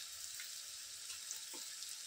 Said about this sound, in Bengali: তেল গরম হয়ে গেছে, এবার পেঁয়াজ দিয়ে দিচ্ছি।